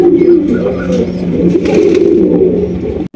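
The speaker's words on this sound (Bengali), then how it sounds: "এখানে রয়েছে এক জোড়া এক্সিবিশন কবুতর" A pair of exhibition pigeons coo steadily and close by in a farm loft, their low rolling calls layered over one another for about three seconds, with a faint engine hum underneath.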